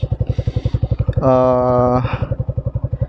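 A Yamaha R15 V2 with an RT R3 aftermarket muffler idles with a steady, rapid thumping exhaust pulse, then gives one short rising rev in the middle before settling back to idle.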